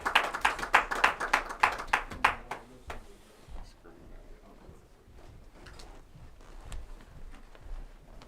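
Audience applause: a burst of brisk rhythmic clapping that thins out after about three seconds into scattered claps under low murmuring and voices.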